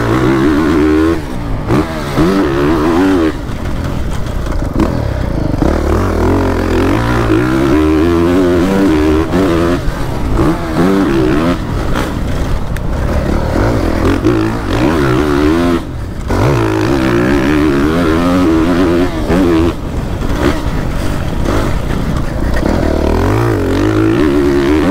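Motocross bike ridden hard over bumps and jumps at an MX nationals track, engine loud and close, revving and surging continuously with repeated throttle rises and brief dips over nearly half a minute.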